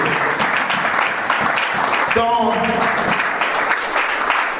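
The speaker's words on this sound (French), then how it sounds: "Si tu as Jésus en toi, acclame bien le Seigneur dans ta vie" Church congregation applauding and acclaiming during a sermon, a dense steady wash of clapping and cheering voices throughout, with a brief sung or shouted tone rising near the middle.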